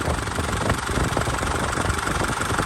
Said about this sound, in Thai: ฟังเสียงเครื่องดูนะครับ